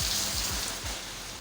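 Rain falls in Swat amid strong winds, a faint, steady hiss of drops with a few soft low thumps.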